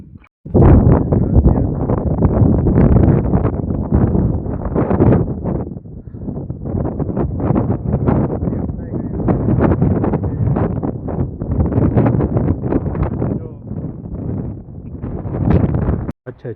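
Strong gusty wind buffets the microphone on Girnar mountain during monsoon rain, a loud continuous roar that surges and eases in waves for the whole stretch with no voices.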